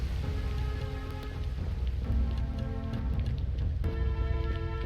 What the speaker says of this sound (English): Sure does rain a lot in Ugrit for it being a desert.